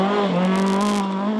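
A rear-wheel-drive Ford Escort Mark II rally car on a rally stage, its engine pulling hard under power with a steady, rising, close and loud exhaust note.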